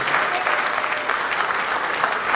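Wedding guests at a civil ceremony applauding the groom, a thick, continuous burst of many hands clapping, close and even throughout.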